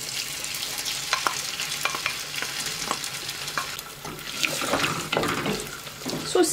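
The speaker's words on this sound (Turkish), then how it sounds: "Sosisleri şöyle 1-2 dakika kızartacağım." Chopped sausages fry in oil in a pan, giving a steady close sizzle broken by scattered stirring scrapes and clatters, with no talking over it.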